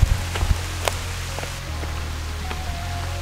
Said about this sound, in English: This rain is really starting to come down now.